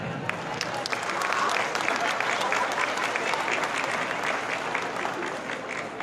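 An audience at an education conference in Mexico breaks into steady, sustained applause that fills the hall, a dense wash of clapping from many hands with no break.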